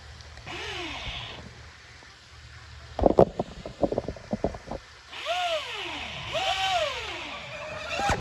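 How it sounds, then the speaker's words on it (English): A Gieco 36-inch twin RC boat crashes on the water, giving a sudden burst of sharp splashing impacts between passes of a whining motor that rises and falls in pitch, with wind noise across the microphone. "And now for some Gieco 36-inch twin crash action."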